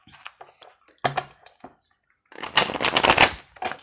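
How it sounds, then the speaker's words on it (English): Tarot cards being shuffled by hand, with a few soft riffling bursts early on and then a longer, louder flurry of card shuffling close up. "I'm going to shuffle that better"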